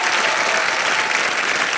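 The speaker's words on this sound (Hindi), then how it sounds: "जोरदार तालियां उनके लिए" A studio audience at a televised Wheel of Fortune game show breaks into loud, dense applause, a close and steady wash of clapping hands with no pauses.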